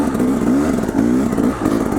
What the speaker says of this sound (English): I can start to feel wheel spin.